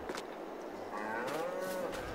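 Cows in the farming game Farming Simulator 22 low a few times, drawn-out moos rising and falling against a quiet ambient background.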